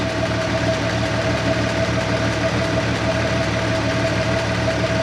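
An old 1953 GMC truck engine, with water in its oil, runs steadily at idle, a rough, knocking rumble with a constant mid-pitched hum, close and loud.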